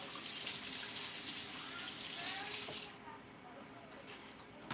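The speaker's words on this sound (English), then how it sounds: "get these lemons. Wash them off real quick." Lemons are rinsed under a running kitchen tap, a steady close gush of water with hand splashing, which cuts off and leaves a quieter trickle.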